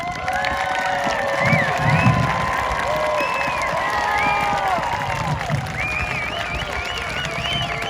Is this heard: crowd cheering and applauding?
yes